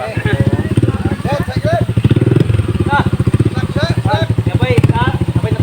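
A motorcycle engine runs steadily close by, its rhythmic low throb continuing under people talking throughout.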